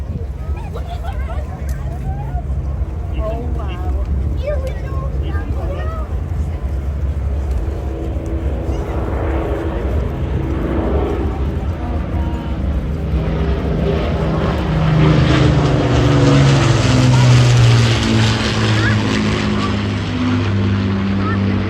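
Avro Lancaster bomber of the Royal Air Force Battle of Britain Memorial Flight at an air show, its piston engines droning steadily throughout and swelling louder toward the end, with a public-address voice speaking over it.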